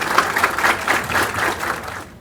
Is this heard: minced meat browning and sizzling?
no